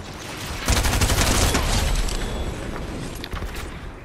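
Rapid bursts of gunfire in the video game Fortnite, a loud close fusillade of repeated shots dense through most of the clip, with no talk over it.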